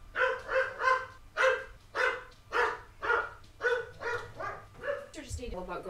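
A dog barking indoors from a living room couch, a series of about a dozen close, evenly spaced barks with voices talking faintly in the background.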